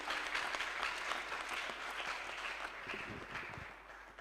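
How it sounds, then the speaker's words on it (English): Church congregation clapping hands together in celebration, a dense, steady wash of applause at moderate distance that holds evenly throughout, with scattered voices faintly mixed in. "Let's clap hands for the coming deliverance."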